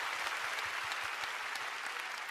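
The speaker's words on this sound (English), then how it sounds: "when you give Jesus a big hand clap" A church congregation breaks into loud, sustained clapping for Jesus during a sermon, a thick and even wash of many hands applauding together with no pause.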